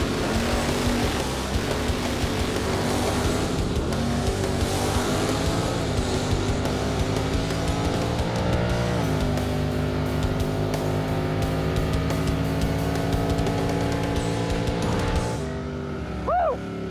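Loud engines of a Firebird and a Camaro roar and rev as they launch and accelerate hard together, a dense continuous drag-racing drone that eases off near the end; the Firebird runs rough.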